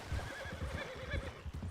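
A horse whinnies in a video game, a clear rising-and-falling neigh over a steady low rumble of hooves and background noise, moderately loud and without talk.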